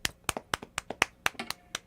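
A single pair of hands claps slowly and unevenly, about ten sharp, close claps spaced roughly a quarter second apart in a quiet room.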